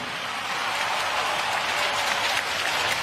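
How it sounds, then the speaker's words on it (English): Loud, continuous applause from a large crowd at Singapore's 2017 National Day Parade honouring national servicemen, dense clapping throughout three seconds. "Another round of applause for our NS men."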